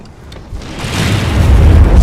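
Barrel bomb explosion in Monster Hunter World, a deep rumbling boom that builds from a quiet start into a loud, sustained low roar lasting about two seconds.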